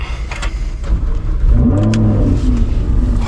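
A Lamborghini engine starts up and revs, the pitch climbing and holding in a loud, close roar.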